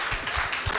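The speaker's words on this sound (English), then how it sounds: "I'm going to clap for" Brief burst of crowd clapping at an outdoor broadcast programme, dense hand claps with a few louder individual claps standing out over a short moment.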